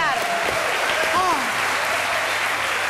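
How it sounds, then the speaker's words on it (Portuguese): A crowd claps continuously and loudly, a dense wash of applause with voices calling out over it. "Un aplauso para Pilar."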